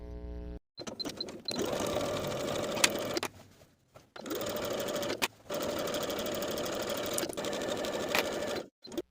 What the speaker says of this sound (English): Now I can sew the button stand to the skirt with a 1/2 inch seam allowance from top to bottom on both sides.